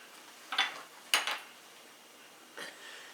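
A hot pan greased with bacon fat is handled on the stove, giving a few faint, sharp metallic clinks and scrapes spaced apart against a quiet background.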